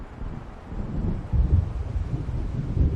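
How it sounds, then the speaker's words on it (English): Low rumbling thunder of an approaching storm in the game Alan Wake Remastered, a deep, distant roll that swells and lingers under wind noise, with no voices. "It seems there's a storm coming."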